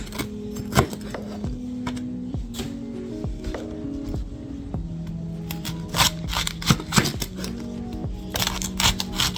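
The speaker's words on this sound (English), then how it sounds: "So we cut off the stalk first." Knife cutting the stalk off a cabbage on a board, a series of crisp irregular cuts and taps close by, with short pauses and a denser burst of chopping near the end.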